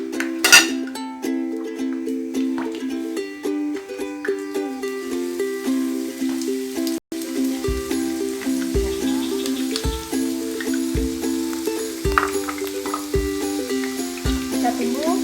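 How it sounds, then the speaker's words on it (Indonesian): Shallots fry in hot oil, a continuous crackling sizzle with small spitting pops, close and fairly loud, while a steady rhythmic thumping from music runs underneath. "Pertama kita masukkan bawang merah."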